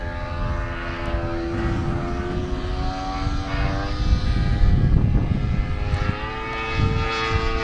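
A 58-inch Extra 300 radio-controlled airplane flies with its propeller engine droning steadily, rising and falling in pitch as it passes at moderate distance, loud and continuous with no talk.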